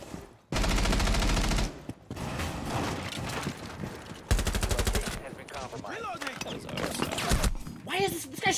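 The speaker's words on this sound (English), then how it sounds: "Why is this guy shooting through the floor?" Loud bursts of automatic gunfire in a video game on the Coastline map, a shooter firing through the floor, in several sharp volleys separated by quieter stretches.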